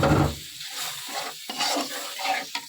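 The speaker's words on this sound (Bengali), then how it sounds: "ভালো করে কষিয়ে নেব।" Meat stirred with spices in an old, blackened iron wok, a close scraping and rubbing of the spatula with a light sizzle underneath, irregular strokes across a few seconds.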